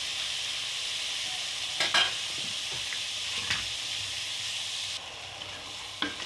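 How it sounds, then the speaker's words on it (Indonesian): Candlenuts stir-fry in a pan with a constant hiss of oil sizzle, broken by a few scraping stirs of a utensil against the pan. The sizzle drops slightly near the end. "Garing sampai matang kemirinya."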